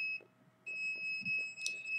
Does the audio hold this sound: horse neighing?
no